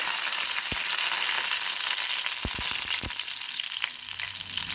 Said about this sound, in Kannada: ಈಗ ಕರಿಬೇವು ಸೊಪ್ಪನ್ನು ಹಾಕ್ತಾಯಿದ್ದೀನಿ. ಸ್ವಲ್ಪ ಬೆಳ್ಳುಳ್ಳಿ ಫ್ರೈ ಆಗಬೇಕು.